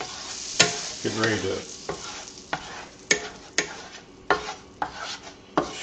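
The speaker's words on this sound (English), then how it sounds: "stir fry the shrimp a little bit, get it fairly well done" Shrimp stir-fried in a pan on a kitchen stove, a steady sizzle broken by repeated sharp scraping clatters of the utensil, roughly one every second, with a brief voice speaking early on.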